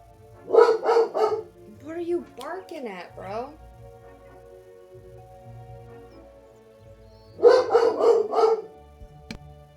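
A dog named Simba barks in two close, loud bursts of three or four barks each, with a squeaky, whining sound in between.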